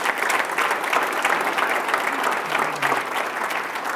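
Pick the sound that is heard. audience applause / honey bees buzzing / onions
audience applause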